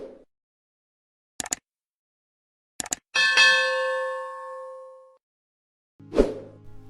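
A notification bell sound effect: two quick clicks, then a single bright ding that rings out and fades over about two seconds, followed by a short knock.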